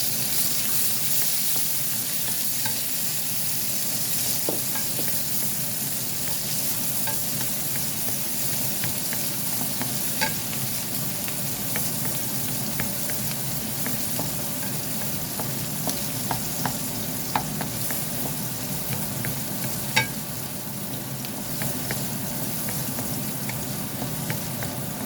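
Onions sizzle steadily in a pan in a home kitchen with a noisy exhaust fan running, a continuous close frying hiss with faint scattered pops and no talking.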